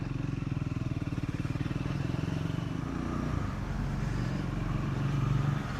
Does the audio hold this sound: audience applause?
no